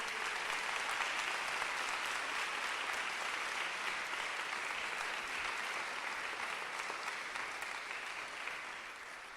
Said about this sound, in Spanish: Un aplauso al Rey de Gloria.